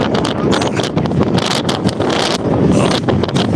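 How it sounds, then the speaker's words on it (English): Strong coastal wind by a dock in Coos Bay, Oregon, buffeting a phone microphone with loud, continuous rumbling gusts and flutter, close and overwhelming throughout. "Damn, it's fucking windy, y'all."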